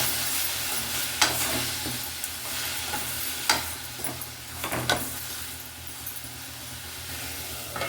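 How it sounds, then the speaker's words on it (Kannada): Chopped tomatoes frying in a pan for a lentil sambar, a steady close sizzle with sharp spoon clinks and scrapes as they are stirred, no voices over it. "ಈಗ ನಾನು ಟೊಮೆಟೊ ಹಣ್ಣು ಕೂಡ ಹಾಕ್ಕೊಳ್ತೀನಿ"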